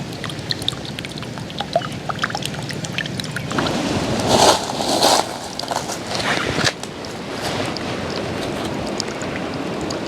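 Water trickles and splashes through a homemade survival filter outdoors, with a soft steady patter that swells into a louder pour in the middle before settling back to a gentle trickle.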